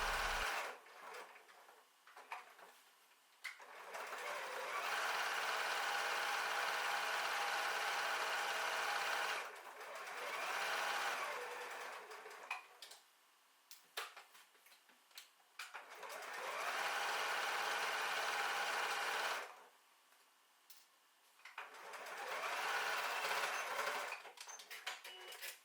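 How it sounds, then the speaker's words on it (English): Sewing machine stitches a pocket onto a tote bag, running down the side edges and across the bottom fold in three long steady bursts separated by short pauses, close and loud with no talk. "Sew the pocket into place, down the side edges and across the bottom fold."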